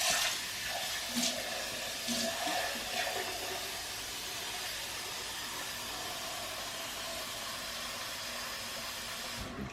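Brine is poured quickly into a Ziploc bag holding pork, giving a continuous rushing, splashing pour that stays steady and close for several seconds before stopping abruptly.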